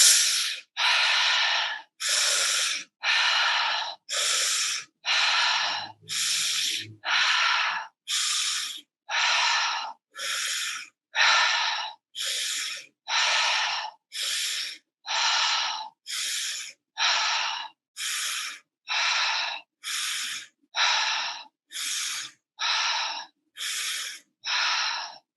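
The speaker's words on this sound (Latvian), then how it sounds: "ielpa, izelpa caur muti." Deep guided breaths, inhaling and exhaling through the mouth during a meditation, heard as a long steady series of about twenty-five loud, close airy breaths in an even rhythm, each separated by a brief pause, with no talking.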